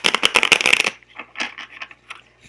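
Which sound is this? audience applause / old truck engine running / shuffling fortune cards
shuffling fortune cards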